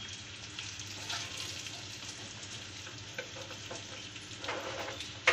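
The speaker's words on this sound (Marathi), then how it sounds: "तर दुसरी बाजू फ्राय करून घेऊया" Bitter gourd (karela) slices frying in a pan as they are turned to crisp the second side, a continuous close sizzle with occasional light spatula taps.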